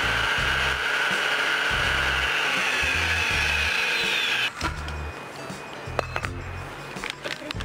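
A Fricomix multicooker on turbo chops garlic and shallots in a loud, whirring burst of about four seconds, then stops abruptly, leaving quieter clatter and handling noises.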